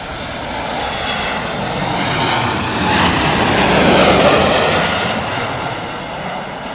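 A jet airliner on landing approach passes overhead with a loud, swelling engine roar that peaks midway and then slowly fades, with no talking.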